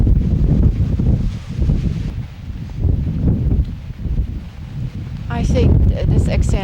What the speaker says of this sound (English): we have a quite windy day